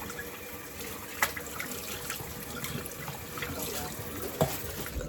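A bowl being rinsed under a running kitchen tap, a steady hiss of flowing water with a couple of small knocks and splashes, fairly quiet and close.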